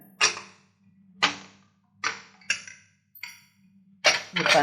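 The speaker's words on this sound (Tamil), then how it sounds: "குக்கர் விசில் எடுக்கிறேன்" A series of sharp metallic clinks and taps, about six in irregular succession, as the whistle weight is removed from a pressure cooker, over a faint steady hum.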